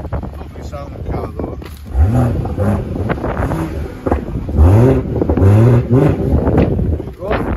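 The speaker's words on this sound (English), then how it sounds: "Let's just have a listen to this exhaust." A BMW 140i exhaust rumbles and revs in bursts close by, with wind buffeting the microphone and someone talking over it.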